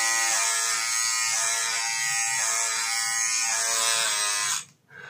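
Philips Satinelle Advanced BRE635 cordless epilator running on skin, a close, loud, steady high-pitched buzz held for several seconds, then cutting off.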